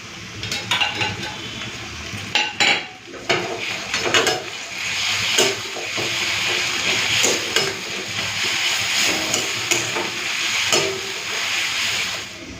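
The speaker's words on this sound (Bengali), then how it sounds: "পেঁয়াজটাকে লাল করে ভেজে নিয়েছি এরপরে পোস্ত বাটাটা দিয়ে দেবো পোস্ত বাটাটা দিয়েও কিছুক্ষণের জন্য ওখানে ভেজে নেবো" Onion and poppy seed paste fry in a pan with a steady close sizzle and hiss, broken by scraping stirs and the clink of a utensil against the pan.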